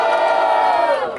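A crowd at a rap battle roars and yells for Atlanta, a loud, sustained burst of massed shouting and cheering that fades slightly at the end.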